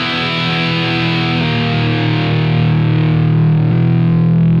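Distorted electric guitar on a Line 6 Helix with a pitch shifter detuning it down a semitone, sustaining loud, steady chords that change pitch twice, alone without speech.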